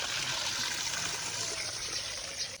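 Water filling in the morning at home, a steady trickling stream running continuously at low level with no talk.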